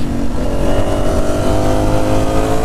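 A Ducati Streetfighter V4 S motorcycle fitted with an SC Project titanium exhaust, revving in a loud, sustained rumble that holds steady throughout with no talk over it.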